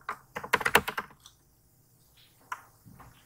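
Someone types on a computer keyboard at close range: a quick burst of clattering keystrokes, then a couple of isolated taps after a short pause, with no voices.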